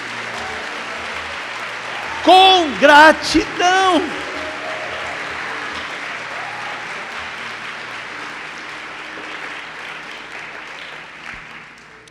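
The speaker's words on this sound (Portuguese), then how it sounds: "Aplauda o Senhor com gratidão" A church congregation applauds in a steady, dense wash of clapping that runs through the whole stretch, with a preacher's voice speaking over it at the start.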